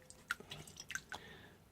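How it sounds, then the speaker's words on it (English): Water sloshing inside a rusty fuel tank during cleaning, heard as a series of soft wet drips and squishy splashes, close and fairly quiet, with no talking. "we're going to give this a swill with a bit of water"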